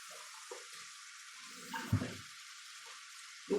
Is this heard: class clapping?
no